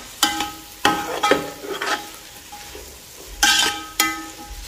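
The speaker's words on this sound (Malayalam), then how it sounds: "അതിനുശേഷം എല്ലാം കൂടെ ഒന്ന് നല്ലതുപോലെ ഇളക്കി യോജിപ്പിക്കുക." Fried rice ingredients, chicken among them, are stirred in a pan with a spoon: sharp scraping strokes come in bursts of several, with a soft sizzle beneath and no voices.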